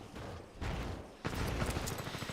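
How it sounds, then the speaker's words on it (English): Titanfall 2 gameplay with a player jump-jetting between walls: dense, noisy bursts of gunfire-like crackle with two sudden onsets, fairly faint and continuous, with no talk. "That is the sound of somebody jumping in the corner and going between two walls."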